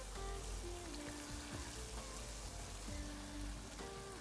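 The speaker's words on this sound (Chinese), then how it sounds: "全程小火慢炸，过程中要注意搅动" Glutinous rice and peanut balls deep-fry slowly in oil over low heat, a steady soft crackle and bubbling hiss that carries on quietly throughout with no voices.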